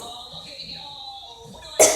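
A single abrupt cough, done as part of a hiccup remedy, bursts out near the end after a quiet stretch with faint tonal background sound.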